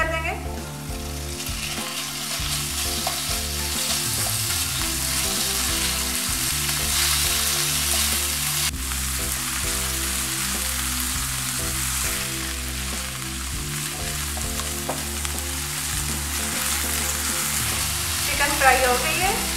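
Chicken pieces fry with onions and garlic in oil, a loud, steady, close sizzle over a low hum, with stirring noises now and then and no speech.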